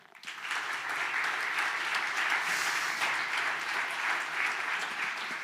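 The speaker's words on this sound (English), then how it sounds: "You get a big round of applause." Conference audience applauds at the close of an opening session on cybersecurity standardisation, a steady dense roomful of clapping that swells in within the first half second and holds loud and even throughout.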